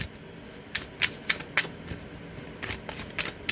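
Tarot cards are riffled and shuffled in a run of quick, crisp flutters and snaps, close by and fairly quiet, with no talking.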